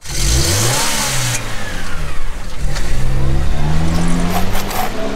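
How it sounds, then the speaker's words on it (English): A medium car engine starts and revs hard up close, rising and falling through several loud accelerating surges with a steady growl between them. "In the name of Jesus, start this car!"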